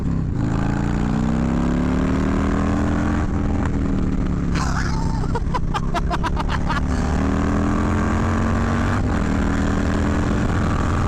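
A 2020 Harley-Davidson FXLRS motorcycle engine pulling hard under acceleration, a loud continuous roar that dips and climbs in pitch, with rapid clicking gear sounds midway and steady wind rush throughout.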